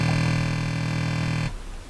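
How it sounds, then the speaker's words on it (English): A dense, sustained bass drum drone from a Korg Volca Sample holds steady and loud for about one and a half seconds, then cuts off abruptly into a faint, fluttering tail. "you just want to set up the, the whole thing so it'll sound like a drone."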